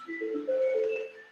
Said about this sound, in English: add a transition called a clue, which sounds like this